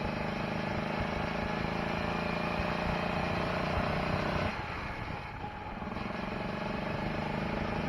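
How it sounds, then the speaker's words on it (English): A Harbor Freight Predator 420 gasoline engine on a dual-engine golf cart labors under load, a steady loud rumbling drone that dips briefly midway before resuming its strained, continuous roar. "Let's watch this poor engine struggle."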